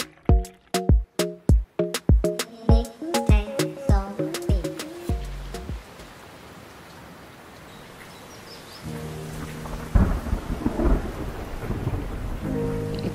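Steady rain hisses for several seconds at a beach resort in Mahabalipuram, with a low rumble of thunder, after a quick run of plucked musical notes.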